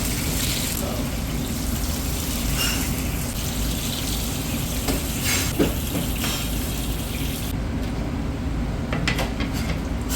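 Tomatoes grilling for a fish molee garnish sizzle steadily in a hot pan, a dense, continuous hiss that stays close and even for the whole stretch, with no voices over it.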